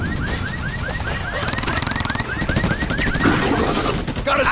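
Rapid automatic gunfire from the Battle: LA PC game rattles in sustained bursts alongside a repeating rising electronic siren-like tone, loud and continuous with no talking.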